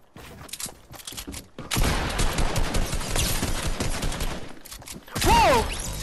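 Rapid bursts of Fortnite gunfire rattle through a busy in-game battle, swelling into a sustained loud fusillade with dense overlapping shots and a brief whistling, sweeping sound near the end.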